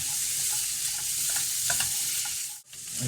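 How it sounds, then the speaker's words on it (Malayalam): Crab pieces stirred into a frying curry in a pan, a dense, close, loud sizzle with scattered knocks and scrapes of the spoon, briefly dropping out near the end before resuming. "ഞണ്ട് ചേർത്ത് ഞണ്ടൊന്ന് ഇളക്കി ഒന്ന് സെറ്റ് ചെയ്തെടുക്കാം."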